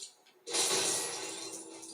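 Objects break and shatter in the LEGO Marvel video game, a sudden loud crash of glassy debris that bursts out and then slowly tinkles away.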